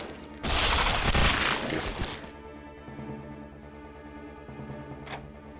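Rapid burst of gunshots in Resident Evil 0, a loud dense volley lasting under two seconds, then fading into a low ambient backdrop with one faint later crack.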